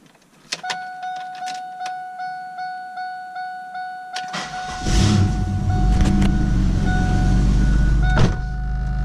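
A $500 car with a supercharger cold-starts: a starter motor whirs in rapid pulsing cranks for about four seconds, then the engine catches and settles into a loud, steady rough idle close by, with a brief rev near the end.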